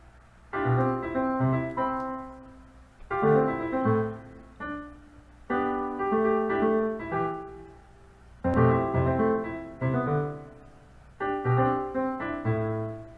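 Instrumental music generated by a restricted Boltzmann machine, in short chordal bursts separated by brief pauses, giving a choppy, stop-start feel with no voices.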